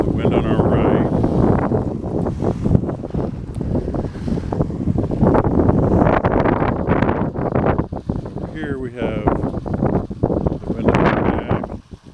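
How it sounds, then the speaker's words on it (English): Strong, gusty outdoor wind buffets the microphone beside a wind-powered rock tumbler, giving a loud, continuous rushing roar that surges and dips. "Okay, now we have the wind on our right."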